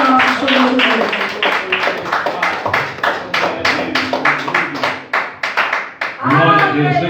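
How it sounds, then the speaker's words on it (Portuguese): A church congregation claps in a lively steady rhythm during a worship service, with many hands beating together under voices and singing, loud and close throughout. "as palmas que estão bem alegres para o nosso Senhor Deus"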